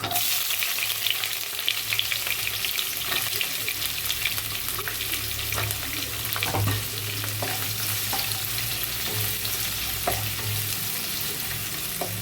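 Onions sizzle and fry in hot oil with cinnamon, cloves and cardamom for a vegetable kurma, a loud steady crackling hiss with occasional stirring scrapes and no talking.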